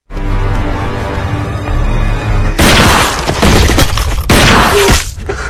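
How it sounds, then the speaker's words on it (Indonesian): Gunfire in an action film scene as a gangster in a bulletproof vest shoots at a major and a captain: loud, dense bursts of booming shots and crashing impacts over a low rumbling score, starting abruptly partway through. "ia langsung menembak Mayor Singh dan Kapten"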